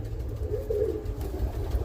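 A roller pigeon coos softly in a low, throaty burble, close by over a steady low background hum.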